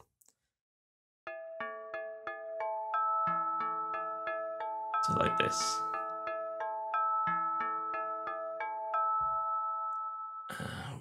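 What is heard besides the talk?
synthesized bell and gamelan-like mallet loops, Zebra synth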